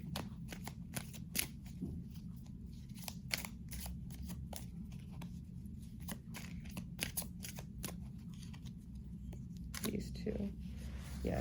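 Tarot cards are shuffled close up in a steady run of quick papery riffles and flicks that carries on throughout, with a low background hum underneath.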